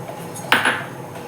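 A spoon clinks and scrapes against a cooking pot twice in quick succession while a coconut, cumin and garlic paste is added to a moong dal and banana flower curry, close and brief, with faint background hiss.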